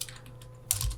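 A short burst of typing on a computer keyboard, a quick cluster of clicks and key taps near the end, close and fairly quiet, with no talking.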